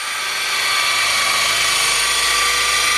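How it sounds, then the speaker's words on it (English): A power drill spins steadily at high speed, buffing a car headlight lens with a Meguiar's headlight restoration kit, a loud continuous whine close by with no talk. "turn up the torque on the drill"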